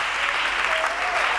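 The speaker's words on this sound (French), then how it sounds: "Acclamons très fort pour les voix." A church congregation breaks into loud, dense applause, many hands clapping together close and continuous throughout.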